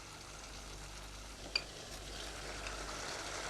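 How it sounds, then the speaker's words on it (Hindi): Chicken fries over high heat in a pan, a steady, faint sizzle that runs on evenly, with a brief scrape or clink of a stirring spoon partway through. "और अब इस चिकन को तेज आंच पर अच्छी तरह से भूनना है हमने।"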